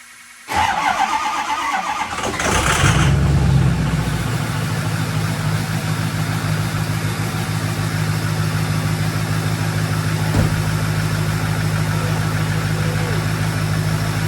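A Ford 6.0 Powerstroke diesel cranks briefly, fires up and settles into a steady, loud, close idle that runs on with a constant low rumble.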